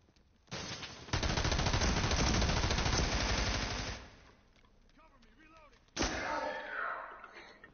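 Automatic gunfire in a shooter video game, a loud sustained burst of rapid shots lasting a few seconds, then a quieter gap and a second shorter burst; a voice talks faintly in between.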